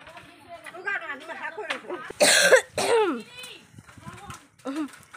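A person coughs a couple of times in a loud burst in the middle, close by, while several people including children chatter around.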